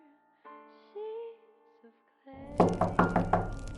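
Four or five firm knocks land on a door in a quick, even series, loud and close, coming after a soft sustained musical tone.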